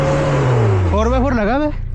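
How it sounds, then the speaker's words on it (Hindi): Engine of a 4x4 car straining and revving with a rising and falling pitch while its rear tyres spin on a snowy road near Murree, loud and close, with a voice speaking over it. "यहाँ पे मैंने नोट किया कि गाड़ी के सिर्फ पिछले टायर ही घूम रहे हैं, अगले टायर जोर ही नहीं लगा रहे।"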